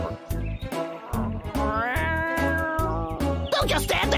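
Cartoon cat meowing repeatedly in a steady, rhythmic series of loud, close mewling calls that stretch into a longer wavering cry near the middle, with no talk over them.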